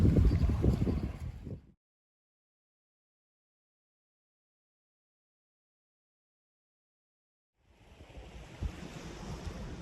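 Ocean waves wash on a beach across the street, a soft rushing surf at the start, then total silence for several seconds before the surf and wind return.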